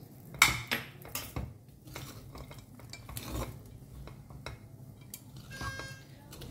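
A spoon stirs fried cashews and peanuts into a pan of lemon rice (chitranna), giving a few sharp clinks at first and then soft scraping and shuffling with light utensil taps, close up and with no talk.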